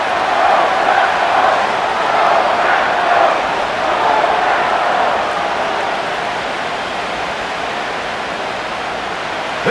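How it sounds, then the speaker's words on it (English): Simulated stadium crowd cheering at a New Orleans Saints versus Green Bay Packers game in Madden NFL 25, a steady dense roar of many voices that swells slightly early and holds at a loud, even level throughout. "This crowd into it now as we get to 3rd down."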